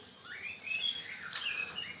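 A white-rumped shama sings clear, whistled phrases with rising and falling notes, fairly close, over a quiet background.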